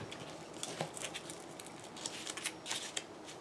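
Soft paper rustling and light scraping as a paper die cut is gently lifted and handled for a scrapbook layout, close and quiet with no talking.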